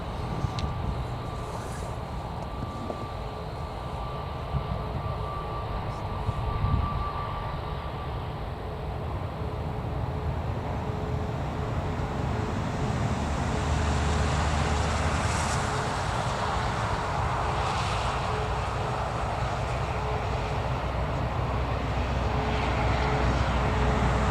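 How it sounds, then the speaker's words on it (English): A British Airways airliner moving on the ground at Newcastle Airport, a steady broad engine roar with rising rumble held throughout, fairly distant and continuous, with no talk over it. "British Airways is actually on the move, sorry about that."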